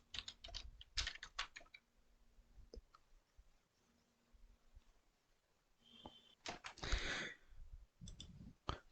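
Typing on a computer keyboard comes in bursts of quick, close clicks separated by quiet pauses, with a faint hum in the background.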